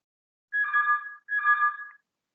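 Phone rings with an incoming call, two short electronic ringtone bursts in quick succession, clear and close against silence.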